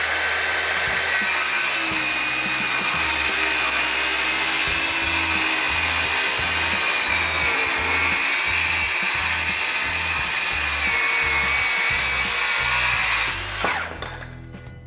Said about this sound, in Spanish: Ahí le vamos a entrar con la sierra.